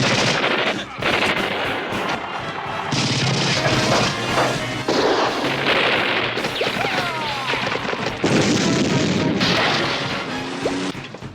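Film battle effects with a panzerfaust firing and exploding amid loud, continuous gunfire and machine-gun bursts, heavy booms and crashes layered through a dense wartime action scene.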